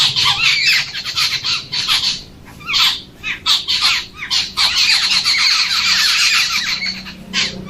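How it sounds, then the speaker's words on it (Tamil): A jungle babbler calls in a harsh, noisy chorus of squawks and squeals, loud and near, in repeated overlapping bursts with brief pauses, continuing throughout. "நம்பலினா காட்டு சிலம்பனோட சத்தம் எப்படி இருக்குன்னு கேளுங்க"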